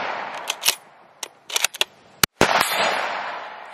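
Test shots from a handgun-like firearm ring out outdoors: several sharp, loud cracks in irregular succession, the loudest near the middle followed by a brief echoing tail, with no talking.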